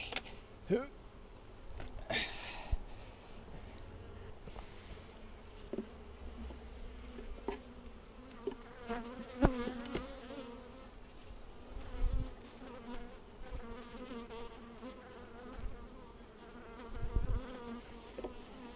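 Honey bees buzz steadily around an open hive during an inspection, a dense, continuous droning hum close by, with faint voices and occasional handling knocks underneath.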